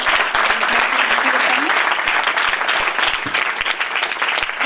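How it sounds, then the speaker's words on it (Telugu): Students and guests at a girls' government high school seminar break into loud, sustained clapping, a dense crowd applause running throughout with some voices beneath. "ఒక్కసారి మన కరతాళ దండలతో గట్టిగా చప్పట్లు కొట్టి"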